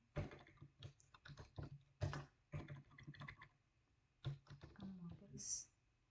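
Letters typed on a computer keyboard come as close, quick clusters of crisp key clicks with short pauses, ending in a brief higher tone, and a voice is faintly present.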